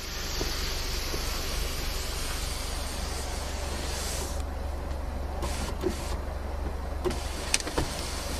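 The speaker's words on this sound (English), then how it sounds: "So if you wanted to take the whole top down, you hold the button down" Fiat 500c electric convertible fabric roof retracting, a steady mechanical motor whir heard from inside the car, continuous and close over a low cabin hum, with a few small clicks near the end.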